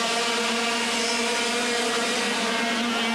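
A Rotax-engined racing kart in a Formula Super A kart race at Jesolo, 1993, whines at steady high revs throughout, its strong harmonic engine drone loud and close with no talk over it.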